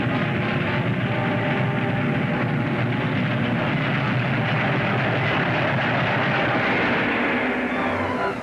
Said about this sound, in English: That sounds like a train.